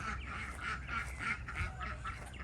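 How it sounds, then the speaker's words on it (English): Ducks being let out quack loudly in rapid, overlapping bursts, a close and continuous chorus of nasal calls. "I'll let the ducks out."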